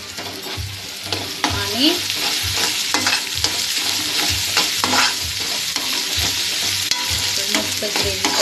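Green chillies frying in an egg gravy, with a loud, close sizzle under repeated rhythmic scrapes and knocks of a spoon stirring through the pan, and one brief spoken word near the start.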